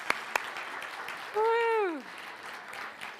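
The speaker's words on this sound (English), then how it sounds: "Let's give him another round of applause." An audience at a spiritual service applauds after a sung performance, a steady wash of clapping as one voice lets out a rising, falling whoop.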